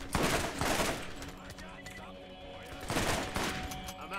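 Borderlands gameplay: a few heavy bursts of gunfire, clustered near the start and again near the end, with quieter game ambience and a steady hum between them. Voices can be heard faintly in the background.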